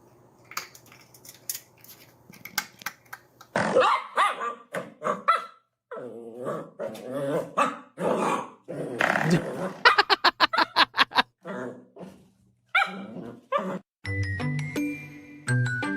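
A small dog, said to look like a rabbit, barks in bursts and rapid strings of yaps with some growling, loud and close, with jingling tinkles near the end.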